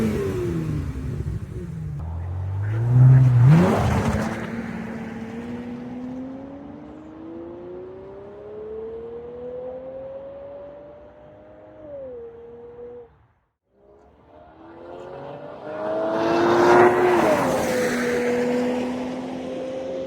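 A V12 Aston Martin DB7 fitted with a straight X-pipe exhaust revs hard nearby, a loud raspy bark that climbs and holds, drops to a brief lull, then swells in a second strong rev, with no talk.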